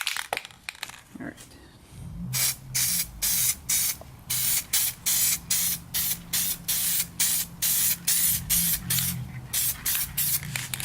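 Aerosol can of SCM paint spraying cleaned Toyota MR2 interior parts in rapid, regular bursts of hiss separated by short pauses, close and loud.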